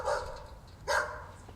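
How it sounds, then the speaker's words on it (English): A dog gives two short barks spaced about a second apart, fairly faint and heard on its own without talk. "Oh, dog barking."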